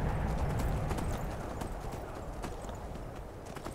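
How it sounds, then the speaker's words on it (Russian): Rapid, steady hoofbeats of a horse galloping uphill in the video game Skyrim, loud and close, over a constant low rumble with no talking. "Так, лошадка, ты что-то как-то медленновато бегаешь."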